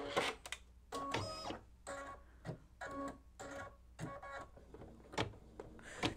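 An embroidery machine stitches a tack-down on an in-the-hoop mug rug, its needle chattering in rapid rhythmic bursts with steady pulses of mechanical whir, close and moderately quiet.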